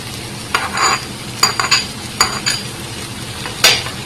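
Spinach (taak palong shak) with fried onion is stirred in a pan, the utensil scraping and clinking against the metal in several uneven bursts over a soft sizzle, with no talking.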